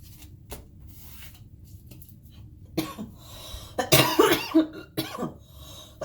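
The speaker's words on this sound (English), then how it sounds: "it's a wet cough" A wet, phlegmy cough bursts out loudly in a short cluster of harsh hacks, following quieter rustling and a faint earlier cough.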